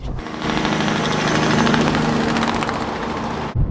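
Two forage choppers harvest corn in a field, a loud steady roaring drone of engines and cutting heads that holds continuously at close range, then stops abruptly.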